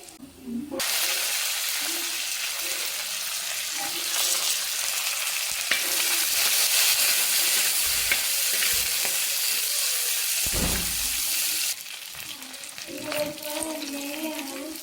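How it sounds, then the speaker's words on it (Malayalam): Onion, green chili, mustard seeds and curry leaves frying in hot oil for a beef curry, stirred now and then. A loud, continuous sizzle fills most of the clip, then drops to a softer crackle as a voice faintly comes in near the end. "ഉള്ളിയുടെ ഒപ്പം കുറച്ച് പച്ചമുളകും ഇട്ട് അതൊന്ന് മൂത്ത് വന്നതിന് ശേഷം നമുക്ക് കടുകും കരിവേപ്പിലയും ഈ ശകലം പൊടിയും കൂടി ഇട്ട് ഇളക്കി"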